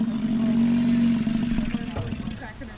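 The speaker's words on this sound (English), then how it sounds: "that was not a motorcycle. It was a buffalo." A bison in Custer State Park lets out a deep, rumbling grunt that resembles an idling motorcycle engine, a sustained low drone for over a second that then breaks into rougher pulses and fades.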